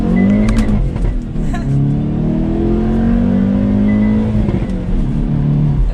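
A 2022 Hyundai Veloster N engine in race mode revs hard and climbs steadily in pitch as it accelerates uphill, loud and close, with a few sharp crackling pops from the exhaust early on.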